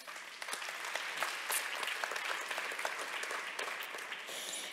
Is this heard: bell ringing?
no